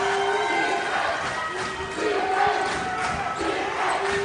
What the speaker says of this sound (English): The crowd's into it.